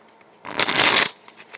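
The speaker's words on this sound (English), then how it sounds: "Let me shuffle my other deck quickly." A deck of cards is shuffled up close, a loud riffling burst lasting about half a second, then a brief softer rustle as the cards settle.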